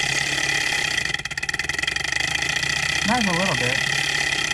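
A small Stirling engine runs with a steady mechanical hum and rapid ticking, a voice briefly speaking over it near the end.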